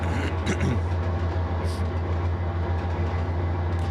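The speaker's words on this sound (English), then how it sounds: "It's a train." A train runs in the Trainz 22 simulator game on the Bakersfield to Mohave route, a steady loud low rumble of wheels and engine throughout, with faint clicks and a brief higher squeal above it.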